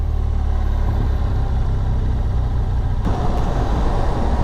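A BMW R1200GS Rallye motorcycle rolls along on the road, loaded with shopping, giving a steady low engine rumble with wind noise that holds constant throughout.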